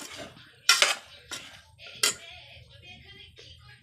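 A metal spoon stirs pickle ingredients in a pot, with a few sharp clinks and scrapes against the side spaced irregularly, close but fairly quiet with no voices.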